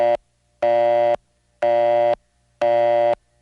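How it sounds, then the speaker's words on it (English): A telephone busy signal on a panel exchange in a 1977 recording sounds as four loud, steady tone bursts. Each lasts about half a second, with equal clean silences between them and no voices. "ringing into a busy signal"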